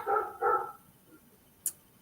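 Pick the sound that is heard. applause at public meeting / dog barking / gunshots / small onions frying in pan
dog barking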